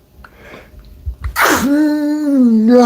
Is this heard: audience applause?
no